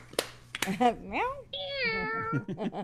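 A human voice imitates a cat, producing a few drawn-out meows with rising and falling pitch, close and clear against silence.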